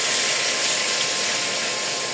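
Fish fry in hot mustard oil in a wok, giving a steady, dense sizzling hiss that stays loud and unbroken throughout.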